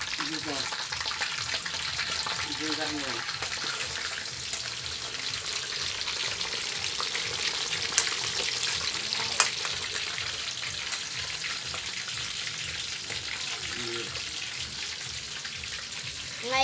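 Pork belly deep-frying in hot oil for lechon kawali: a loud, steady sizzle and crackle runs the whole time, with a voice heard faintly now and then underneath.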